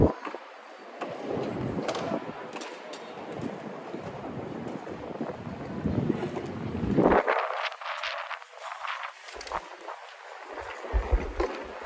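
Strong wind gusts roar and buffet the microphone outdoors on a New York City street, rising and falling in heavy rumbling bursts.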